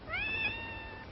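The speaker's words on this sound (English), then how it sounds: "Nice, kitty." A cat gives a single drawn-out meow lasting about a second, close and clear, with a rising then steady tone over a quiet background and no talking.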